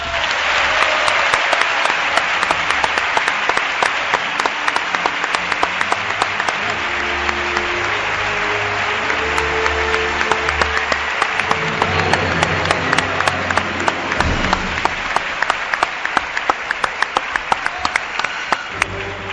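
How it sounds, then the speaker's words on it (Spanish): An audience in a legendary theatre in Cádiz applauds warmly, with sustained dense clapping from a large crowd continuing for about twenty seconds. "Un aplauso, por favor."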